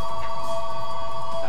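A phone rings with a steady electronic tone that holds without a break, loud and close, with no one talking over it.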